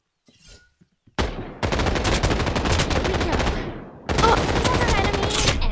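Rapid automatic gunfire rings out in Final Fantasy VII First Soldier, with two long, loud, dense bursts separated by a short gap after a brief quiet lead-in.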